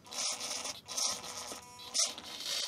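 Small RC model aircraft servos whir in short bursts as the transmitter stick moves the control surfaces, three or four brief, faint buzzing movements close by.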